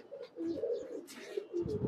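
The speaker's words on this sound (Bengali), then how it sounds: "এই যে একটা বেজি নর কবুতর" Pigeons, including a Bezi male, coo softly at a pigeon keeper's home, a few low murmuring calls repeating close by with no talk.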